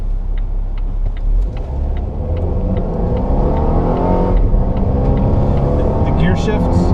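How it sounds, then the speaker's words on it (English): The engine of a 2016 Volvo XC90 T6 R-Design roars steadily from inside the cabin as it climbs through the rev range under hard acceleration, a loud sustained drone with shifting pitch. "It climbs and climbs up that rev range, and then the shift is abrupt"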